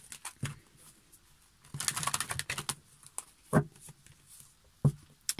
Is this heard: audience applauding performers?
no